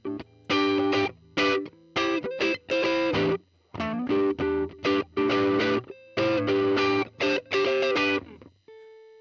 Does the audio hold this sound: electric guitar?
yes